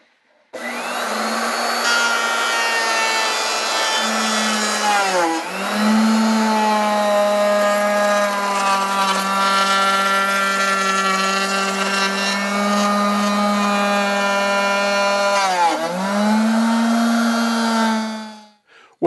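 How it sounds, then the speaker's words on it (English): A table saw makes a straight cut through wood, trimming a 3/4 section from the front of a small parts storage cabinet: a loud, steady, high whine lasting about eighteen seconds, with its pitch dipping twice as the blade bites. "I'm over at the table saw now, and I'm going to cut out that 3/4 section of the front"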